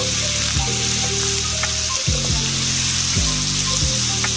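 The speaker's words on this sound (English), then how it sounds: "one on low heat. Introduce my butter." Butter, actually margarine, sizzling and frying in a pan over low heat, a steady hiss broken by a few soft scraping or settling knocks, close and fairly loud with no talking.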